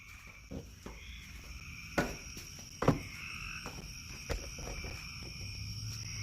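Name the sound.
frog croaking loudly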